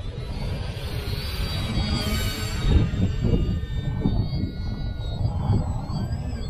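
A scratch-built FT Guinea Pig RC plane flies overhead, its electric motor giving a continuous whine that rises and falls in pitch as it banks, with steady low wind rumble beneath and no talk.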